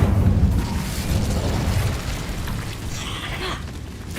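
Incendio fire spell cast in the Hogwarts Legacy video game, a loud whooshing, booming burst of flame that roars at first and then settles into a steady crackling rumble, with a brief tonal flourish near the end.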